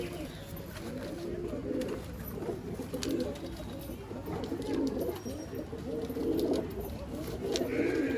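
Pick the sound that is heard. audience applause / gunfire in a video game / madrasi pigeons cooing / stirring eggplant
madrasi pigeons cooing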